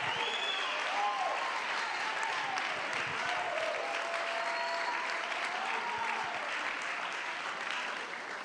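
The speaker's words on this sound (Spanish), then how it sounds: "Alguien que le dé un aplauso al Señor" A church congregation applauds during a sermon, with steady sustained clapping throughout and high sustained tones floating faintly over the hands.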